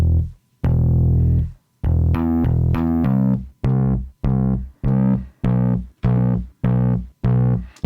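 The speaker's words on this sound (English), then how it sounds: "now you've got distortion or saturation coming in." Distorted, saturated tones from a Safari Pedals plugin played as a series of sustained then short repeated notes, gritty and loud, each cutting off cleanly between hits.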